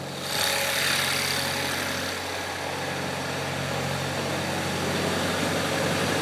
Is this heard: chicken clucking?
no